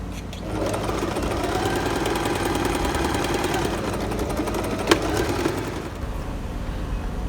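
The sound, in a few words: sewing machine sewing the facing of a halter neck dress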